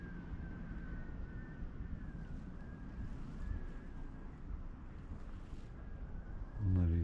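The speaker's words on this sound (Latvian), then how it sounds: "Baigais vējš sākās." Strong, steady wind buffets the microphone outdoors during a fishing trip, a constant rushing roar with a heavier low gust near the end.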